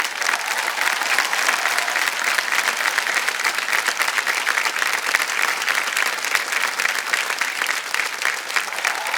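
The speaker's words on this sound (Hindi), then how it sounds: "जोरदार तालियां बज जाएं इनके लिए" Dense, steady applause from a quiz show studio audience for a contestant, loud and sustained throughout with no pauses and no talking over it.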